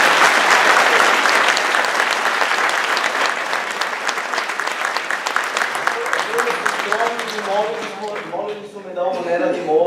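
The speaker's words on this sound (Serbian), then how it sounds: "Ja bih molio jednu veliku aplauz." A large audience applauds at a music school ceremony, sustained dense clapping that carries across the hall, then thins toward the end as a few voices and scattered claps remain.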